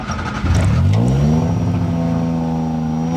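A tuk-tuk's small engine catches about half a second in and settles into a loud, close, steady drone that rises in pitch. No one talks.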